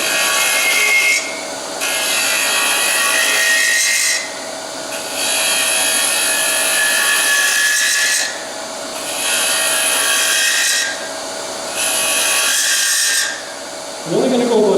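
A wooden earring blank is tapered down with a cutting tool in five even passes, each a rasping, hissing scrape about two seconds long, split by brief pauses. The sound is close and fairly loud, with no speech.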